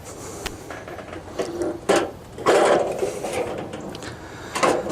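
Opening the lid of a Coleman two-burner propane camping stove with its push-button latch: a short series of close metallic clunks, clicks and rattles, with one louder knock toward the middle and another near the end.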